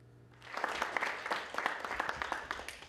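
Applause swells at a scholarship award ceremony for international students bound for Taiwan, a dense crowd of hands clapping steadily after a quiet start, with no talk over it.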